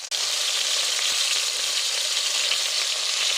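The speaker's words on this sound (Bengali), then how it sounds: "মাছ ভাজতেছি" Fish frying in oil in a pan, a dense, even hiss of sizzling that holds loud and steady from start to finish after a brief opening gap.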